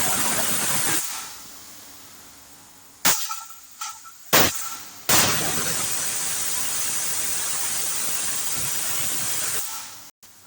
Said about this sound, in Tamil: ஏழு விசில் விட்டு இப்போ ஸ்டீம் போயிடுச்சு.